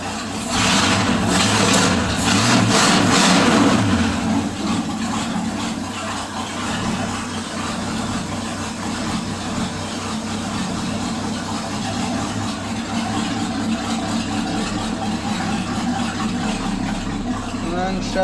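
A 2002 Ford Ranger with a 351 Windsor V8 idles low and steady with a deep, continuous rumble, a bit louder in the opening seconds.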